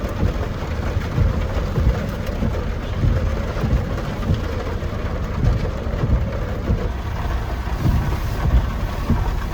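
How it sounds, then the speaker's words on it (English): Light rain falls in a steady patter with dull low thumps, close and constant throughout, with no voices. "It's a little bit rainy."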